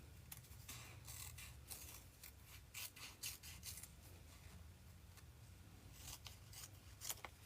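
Scissors cut through paper-backed fabric for a quilt appliqué, giving close, steady rasping snips and rubbing crunches that repeat in irregular bursts with no talking.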